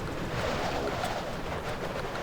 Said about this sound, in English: Very windy up here.